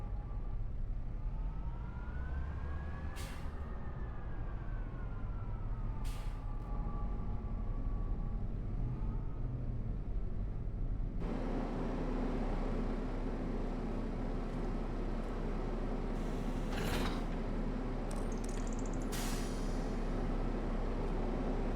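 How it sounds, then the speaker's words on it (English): Tractor engine droning in Farming Simulator 25 while hooked to a baler, a low steady rumble with a wavering tonal whine early on, then a fuller, louder machine roar joining partway through. "This tractor shouldn't have too much difficulty in pulling this baler."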